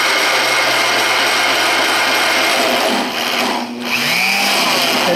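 A Vevor magnetic drill press cuts with a loud, gritty grinding whine, and its pitch sags and wavers as the motor bogs down at slow speed, then briefly recovers.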